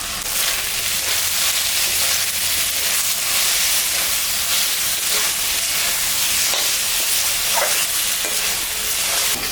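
Water lily flowers sauté in a hot pan, giving a steady, loud sizzle and hiss with a faint scrape of stirring now and then and no voices.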